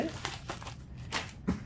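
A sheet of paper packed in a ceiling fan box crinkles and rustles close up in a few short, crisp bursts, with faint voice sounds mixed in.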